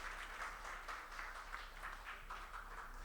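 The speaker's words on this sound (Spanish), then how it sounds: "agradecemos a Margarita con un fuerte aplauso" Audience applause at the close of a literary talk, a steady wash of many hands clapping at a moderate distance that carries on without pause through the whole clip.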